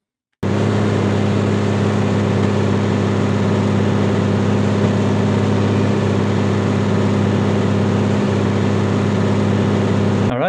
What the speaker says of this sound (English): here's the car engine